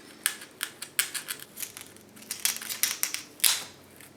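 Scissors cut a circle in burlap for a clown mask, giving a run of crisp, close snips at an irregular rhythm with no talking.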